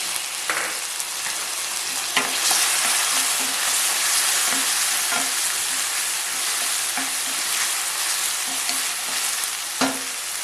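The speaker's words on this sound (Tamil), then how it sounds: "இப்போது இஞ்சி பூண்டு வதங்கின பிறகு தக்காளி ஆட் பண்ணிடலாம்." Tomatoes dropped into sautéed ginger and garlic for baghara baingan, a dense steady frying sizzle with intermittent sharp spatula taps and scrapes against the pan, close and fairly loud, no speech.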